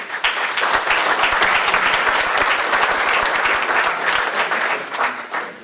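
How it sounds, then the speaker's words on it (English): A large audience claps steadily and loudly for Mike Sullivan at a business event, dense applause filling the room throughout before tapering slightly at the end. "giving a round of applause for Mike Sullivan"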